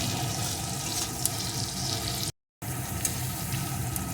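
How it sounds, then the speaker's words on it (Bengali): Chopped onion and tomato with a little salt fry in a pan for a crab curry, giving a steady close sizzle with faint stirring, broken by one brief gap of silence. "এখন কিছুক্ষণ এইভাবে ভেজে নেবো"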